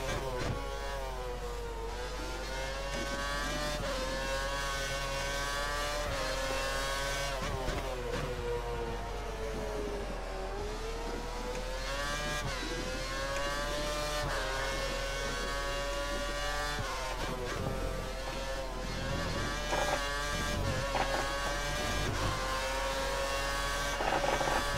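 A Formula 1 race car engine in the F1 2013 video game, driven at Catalunya: a high, continuous whining engine note that keeps rising and dropping as the car accelerates, brakes and shifts through corners, with no talking.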